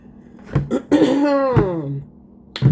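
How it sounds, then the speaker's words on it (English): A person clears their throat close up, a few short rasping coughs around a longer strained, gravelly vocal rasp. "I need to clear my throat"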